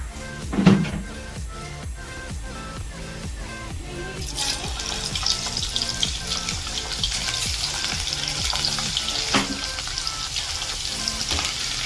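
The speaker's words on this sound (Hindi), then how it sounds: "अब ये लहसुन डालने के बाद जैसे देख रहे हो पक रहा है।" Garlic frying in hot oil while goat mix oil is being made: a steady, close sizzle and crackle, with a louder hiss that rises partway through after some faint clinks at the start, and no talk.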